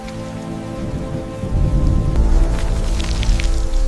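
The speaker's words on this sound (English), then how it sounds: "Acid rain began to fall across the planet." Rain falls steadily on the ground, thickening into a heavier downpour partway through with a low rumble beneath, a continuous wash of drops with no voices.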